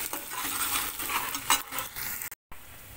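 Onions sizzling in hot oil in a pot while being stirred with a utensil for mutton masala, with steady frying crackle, a scraping clink midway, and a brief cut to silence near the end.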